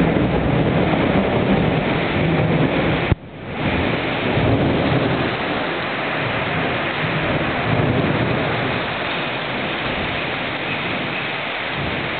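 A heavy thunderstorm with lightning and rain pours down in a loud, dense roar, with a deep rumble of thunder rolling underneath and a sudden brief dip partway through.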